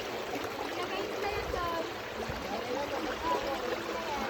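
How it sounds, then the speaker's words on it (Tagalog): A strong river current flows past in a steady, soft rushing wash with faint trickles and splashes, while people talk nearby over the water. "Medyo malakas ang agos."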